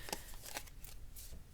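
An oracle card deck being shuffled during a reading, with several quick riffling bursts and soft papery slides close by, fairly quiet and without speech.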